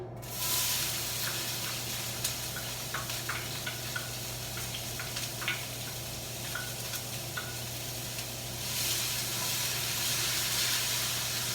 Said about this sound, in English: let's start with our onions and get them in our pan